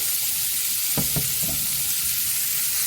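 Tomatoes fry in a pan while being cooked down for coriander chutney, giving a loud, steady hiss of sizzling with a couple of soft stirring knocks near the middle and no talking.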